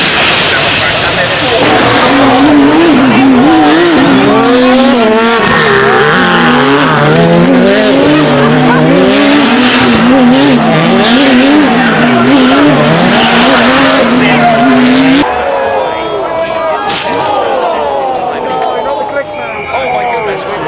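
The SCG 004C race car spins off the track at the Goodwood Festival of Speed, with loud tyre squeal and skidding over the roaring engine. A commentator talks excitedly over the noise.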